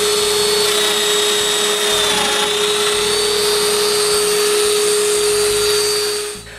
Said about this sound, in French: je perce des trous pour les dominos sur le devant des cadres intérieurs